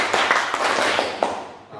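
Students in an Indonesian junior high classroom clap in unison in a short patterned sequence: several crisp claps spaced across a couple of seconds, heard close over busy room noise and chatter.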